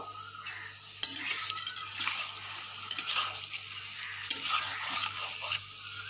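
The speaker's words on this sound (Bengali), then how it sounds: "কিছুক্ষণ ভাজা ভাজা করে নেব" Chicken stirred and sautéed in a pan over a gas flame, with bursts of spatula scraping and clinking against the metal, separated by quieter stretches of low frying hiss.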